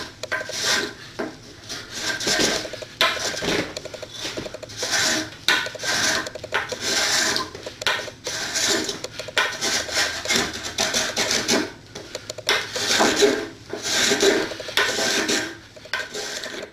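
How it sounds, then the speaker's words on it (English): Spokeshave shaving a wooden Roubo workbench top in repeated rough strokes, with short gaps between passes, close and fairly loud, with no talking. "I've removed most of the meat using the spoke shave"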